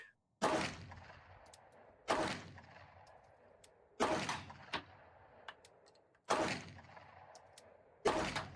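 Four sharp Glock pistol shots, all fired from a single spot on an outdoor range, ring out about two seconds apart, each loud crack trailing off into a short echo, with no talking between them.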